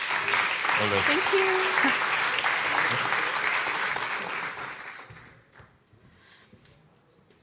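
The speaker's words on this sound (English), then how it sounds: "Please give them a round of applause." Audience applause at a NATO youth summit session, loud and sustained for about five seconds under a brief spoken thanks, then fading away to near silence.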